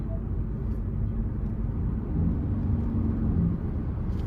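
A 2023 Ford Escape Hybrid with its 2.5-litre four-cylinder in sport mode gives a steady low engine drone from inside the cabin, swelling slightly as it goes, with no speech.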